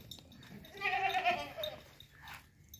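A goat bleats once at middle distance among tethered, tall sacrificial goats at a livestock market, a short wavering cry over faint background noise.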